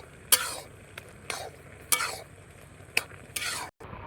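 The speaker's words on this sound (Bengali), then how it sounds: "এবার নাড়াচাড়া করবো জলটা টানানোর জন্য।" A spoon stirs taro leaves with raw chickpeas in an open pot to cook off the water: several distinct scraping strokes and clacks against the pot, spaced irregularly over a low, soft simmer, close and without speech.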